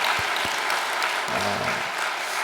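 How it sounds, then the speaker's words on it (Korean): Steady applause from a church congregation during a Sunday worship service, an even wash of clapping that continues throughout at moderate volume, with a couple of brief low thumps near the start. "우리 성학생부를 위해서 큰 격려의 박수 한번 부탁드리겠습니다."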